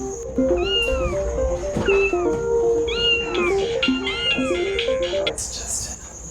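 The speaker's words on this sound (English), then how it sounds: "It's just an alert to a video update from Kitty in the City." Several cat meows of rising and falling pitch repeat in a playful run over a steady high electronic whine, with a low rhythmic tone pattern underneath like an alert jingle; the sounds are close and clear.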